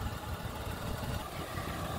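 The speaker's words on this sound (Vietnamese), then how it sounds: "máy nổ êm du các bác nhé, xe vẫn đang nổ máy" A Mitsubishi Attrage with automatic transmission idles in a smooth, steady low hum, the engine running evenly with no revving and no other sounds standing out.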